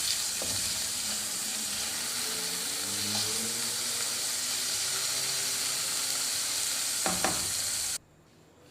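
Spinach frying in hot oil, a loud, dense, continuous sizzle with faint bubbling and a couple of brief utensil knocks near the end before it cuts off.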